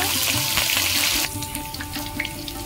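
Dried red chillies, bay leaves and whole cumin hit hot oil for a Bengali aloo kosha, giving a loud, close, steady crackling sizzle that eases to a lighter spitting fry partway through.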